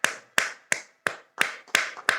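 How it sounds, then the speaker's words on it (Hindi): A group clapping hands in a steady rhythm, seven sharp claps roughly a third of a second apart, close and clear with no voices. "तालियों को बजाते रहें, बजाते रहें"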